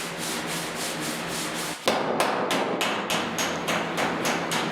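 Body filler putty on a truck hood is hand-sanded with coarse paper in fast, close, scratchy strokes. The rough rasping repeats in a steady back-and-forth rhythm after a brief pause.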